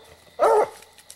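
A coon hunting dog being conditioned outdoors before the hunting season lets out one loud, close bark, a single short burst with quiet woods around it and no talking.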